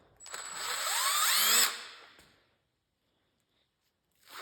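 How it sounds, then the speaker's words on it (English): A power drill backs screws out of a Craftsman snowblower in one whirring burst of about a second and a half, rising in pitch, then stops and leaves a quiet gap before a brief noise at the end. "Go ahead and take these screws off"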